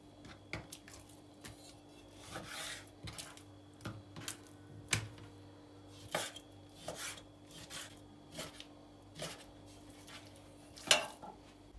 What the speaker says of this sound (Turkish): İlk olarak kullanacağımız tavukları doğramakla başlayalım.